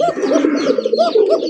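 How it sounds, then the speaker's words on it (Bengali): Pigeons at a large pigeon farm in Bangladesh coo continuously, many birds overlapping in close, rolling, throaty calls with a few faint chirps above. "দেখতে পাচ্ছেন বিশাল বড় কবুতরের খামার।"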